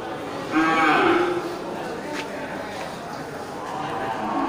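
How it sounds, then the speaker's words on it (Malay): A male albino water buffalo gives one loud, low moo, followed by quieter outdoor background noise with faint voices. "ini satu kerbau albino jantan ya"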